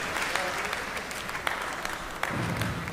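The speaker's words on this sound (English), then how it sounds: "As he leaves the stage, a massive round of applause for Cliff." A darts crowd at the Isle of Man Open gives a sustained burst of applause that stays steady and loud throughout, thick with clapping and faint cheers.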